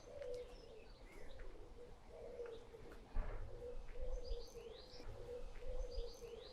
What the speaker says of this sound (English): It's been great with the robin and the blackbird. In fact, I can just hear they're still singing now.